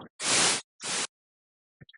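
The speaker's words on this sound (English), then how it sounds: "I'm just using white noise and pink noise." Synthesized white and pink noise plays in two loud hissing bursts of static, separated by silence, followed by a few faint short blips near the end.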